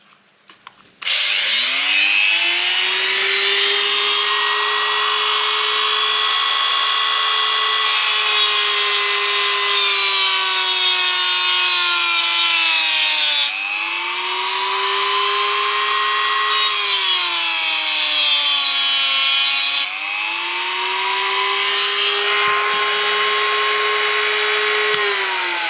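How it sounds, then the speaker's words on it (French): A Dremel rotary tool cuts a slot into a stripped, rounded screw on an Xray XB8 RC car, whining continuously and loudly with pitch dipping as it bites into the metal, close and alone. "Du coup, Dremel."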